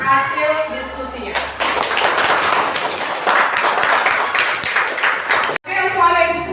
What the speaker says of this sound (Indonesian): Tepuk tangan untuk kelompok 2 yang sudah mempresentasikan hasil diskusinya.